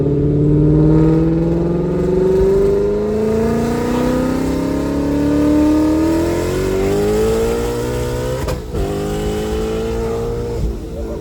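A Procharged Mustang with a D-1X supercharger pulls hard, its engine loud and close, the pitch rising steadily for about eight seconds before a brief break for a gear change, then climbing again.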